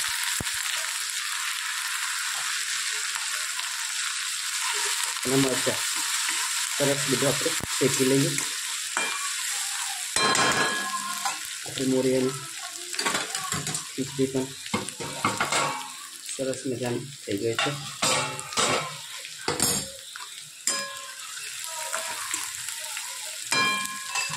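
Cumin seeds, green chillies and curry leaves sizzle in hot oil for a potato curry, a bright steady hiss broken by repeated close scraping and clinking of a spoon stirring in the pan.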